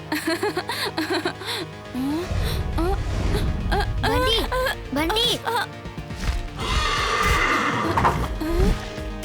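A horse whinnies repeatedly in high, shaky neighs, with lively voices and hoof clatter mixed in around the calls.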